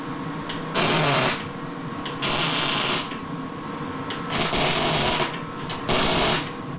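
A steel roll cage on a 1978 Jeep CJ5 prerunner build gets tack welds, with four loud bursts of harsh crackling arc roughly a second long each, separated by short pauses over a steady shop hum.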